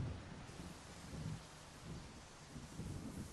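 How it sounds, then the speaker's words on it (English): A thunderstorm in the video game Solarpunk, with rolling thunder rumbling in repeated low swells over a steady wash of rain, loud and continuous without voices. "I really do like the lightning storms."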